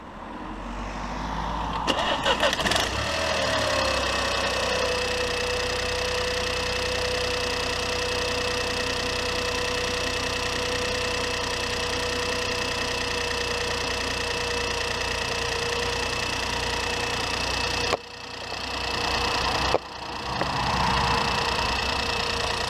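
A 2015 Mini F56 engine idles steadily after a spark plug change, a smooth continuous hum heard outdoors beside a busy road, with traffic noise layered over it and a couple of brief dips near the end.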